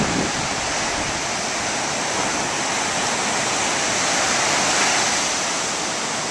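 Ocean surf rolling in at an Outer Banks beach at S-Turns, a constant broad wash of breaking waves and hiss with no distinct gaps, loud and steady throughout, with no voices.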